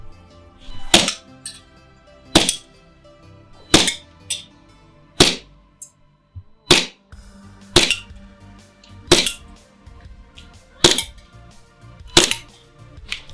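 An ICS Korth PRS gas blowback airsoft pistol fires nine single shots at uneven intervals of roughly one to two seconds, each a sharp loud crack with a metallic clack of the slide, close by and without talking.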